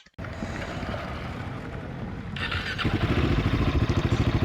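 A Royal Enfield Himalayan 450 adventure motorcycle engine pulling away, low rumbling exhaust under heavy wind rush that grows louder and more pulsing as the bike picks up speed, with no talking.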